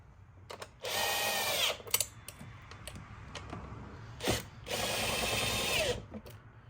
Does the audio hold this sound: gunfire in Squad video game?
no